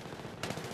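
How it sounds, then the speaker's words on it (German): Gunfire in the multiplayer video game Battlefield 3, heard as a sudden loud burst of rapid shots that breaks in partway through a steady hum of game ambience, with no talking. "Zwei Schüsse direkt hintereinander, ey."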